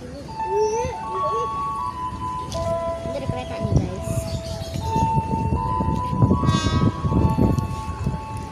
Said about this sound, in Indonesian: komuter lain yang akan segera masuk di jalur 4 stasiun Tambun